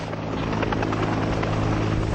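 Helicopters lifting steel during shipwreck salvage of the Rena, a steady loud rotor drone with buzzing blade chop throughout, close and continuous, no voices.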